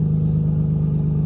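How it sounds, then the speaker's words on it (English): Car engine idles with a ticking, puffing exhaust leak, a steady low rumble with rhythmic pulses, close and continuous for a brief moment. "We do have this nasty exhaust leak, if you guys can hear it behind me, why it's running."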